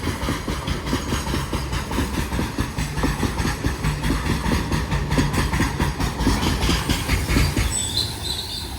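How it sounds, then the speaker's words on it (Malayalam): A diesel goods train hauled by twin WDG4 locomotives from the Pune shed rolls past at Suravali, Goa, its wagons clattering in a steady rhythmic clickety-clack with a faint wheel squeal, loud and close throughout. "ഇപ്പോൾ പോയത് പൂനെ ഷെഡിൻ്റെ ഒരു WDG4 ട്വിൻസ് ആണ് കേട്ടോ."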